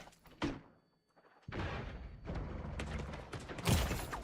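A thrown grenade goes off in The Division 2 during a Dark Zone dust storm: a sharp thump early, a near-silent gap, then a loud blast with a crackling, rumbling tail and another hard hit near the end.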